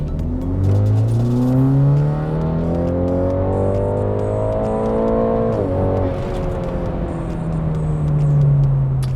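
A BMW G20 330e with the B48 four-cylinder engine, ECU-remapped and fitted with an aftermarket exhaust, revs up loudly from low RPM during a data-log pull, its engine note climbing steadily, briefly dipping at a gear change, then rising again.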